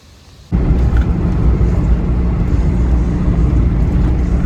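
Renault Megane 2 driving on a highway, a loud steady road and engine rumble that starts abruptly after a quiet moment and continues evenly to the end, with no talk.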